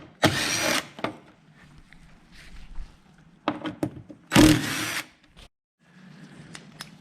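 A power tool backs out 10 mm bolts holding the grille across the front of a 2010 Cadillac Escalade, in two loud close bursts with short, sharp clicks and clunks between them and no talking.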